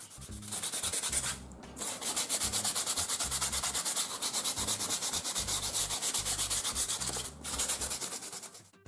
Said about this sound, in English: Now some sanding to smoothen the surface.